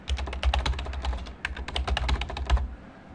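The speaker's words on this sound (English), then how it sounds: "we're going to go ahead and type in Cranberry here" Fingers type on a computer keyboard in two quick bursts of crisp, close key clicks with a brief pause between them, then the tapping stops.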